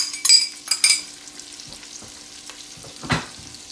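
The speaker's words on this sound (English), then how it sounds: "I'm going to go ahead and we're going to add in our onions." Chopped onions go into a hot pan for a Veracruz-style fish dish, sizzling in quick bursts as they are stirred and broken up, with a few scraping utensil sounds and no talking.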